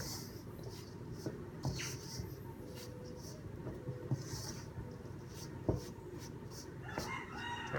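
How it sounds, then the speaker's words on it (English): Wild free-ranging chickens and roosters calling in the distance outdoors on an island, with scattered faint crows and clucks over a steady low ambient background. "I'm sure you can hear my chickens in the background"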